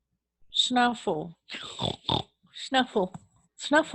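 A person imitates a pig snuffling and grunting for food, a few close, voiced oinks and snorts in quick bursts with short pauses between them.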